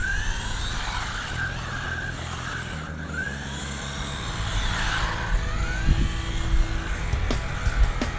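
An SG 1604 budget RC drift car runs with its gyro turned fully up, giving a steady whirring motor drone with sweeping pitch shifts through turns and a few faint tire squeaks near the end.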